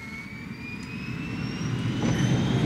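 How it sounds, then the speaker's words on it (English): A jet airplane in the 1983 James Bond film Octopussy, a steady rising whine over a low roar that grows louder as it approaches, with no talking. "I didn't expect an airplane or anything."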